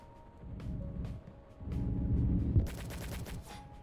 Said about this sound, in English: Let's use this Predator missile.